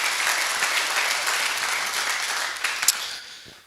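Audience applause at a handball league press and launch event fills the room steadily for most of the stretch, a dense, even clatter of many hands that thins and fades toward the end, with no talk over it.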